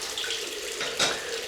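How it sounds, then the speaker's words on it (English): Tap water runs steadily into a sink for a cold rinse after shaving with a stainless steel double-edge razor, a continuous close hiss with a slight splash surge near the end and no talk. "Cold water rinse, and then we're going to meet alum"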